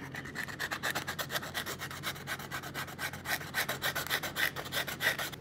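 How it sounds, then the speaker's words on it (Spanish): Sandpaper rubs rapidly back and forth over a denim jacket, producing a close, rhythmic rasping scrape in quick regular strokes throughout, with no speech. "Y empiezan a lijar."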